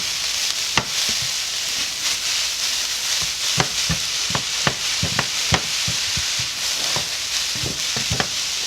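Vegetable noodles sizzle steadily in a Tefal pan while tongs tap and scrape against the metal in irregular clicks, close and clear with no voices.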